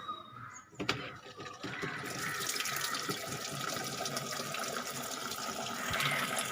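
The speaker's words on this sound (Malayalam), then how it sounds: "വെള്ളം വന്നുകൊണ്ടിരിക്കുന്നുണ്ട്" Tap water pours steadily into an automatic washing machine drum, a continuous broadband rush after a brief knock near the start, growing slightly fuller toward the end with no talk.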